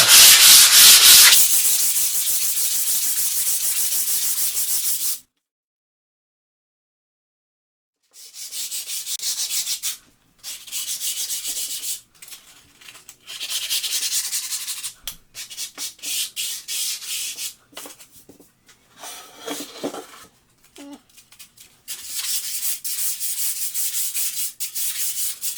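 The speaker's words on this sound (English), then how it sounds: "I'm just gonna sand it up a little bit." A wooden marble game board being sanded with 100 grit sandpaper, giving loud, close, rasping strokes in long runs broken by a few seconds of silence, with no talking.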